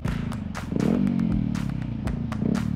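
A motorcycle engine idles and blips its throttle in uneven pulses during wheelie practice, with a rough low rumble and scattered clatter and thumps close by.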